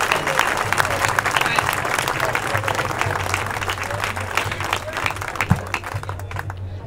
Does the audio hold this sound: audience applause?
yes